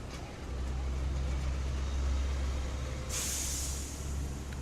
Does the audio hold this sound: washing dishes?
no